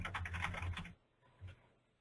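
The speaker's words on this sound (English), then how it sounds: "And I'm typing this in now" Quick keystrokes on a computer keyboard clatter in a short close burst for about a second, then stop, with one faint key press after a pause.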